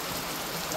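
Heavy rain pours steadily in a rural farmyard during a downpour, a dense, even hiss filling the whole stretch, close and continuous with no breaks.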